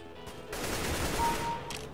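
Gunfire from a PC shooter video game, a dense burst of overlapping shots forming a sustained loud fusillade for most of the clip, with no talking.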